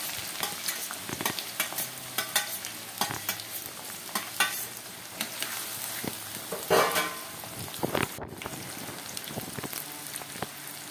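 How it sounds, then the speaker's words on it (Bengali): Chopped onions fry in mustard oil in a pan, giving a steady soft sizzle broken by repeated scraping and stirring strokes from a utensil, close and moderately loud, with no talking. "এবার পেঁয়াজগুলো একটু লালচে লালচে করে ভেজে নেবো।"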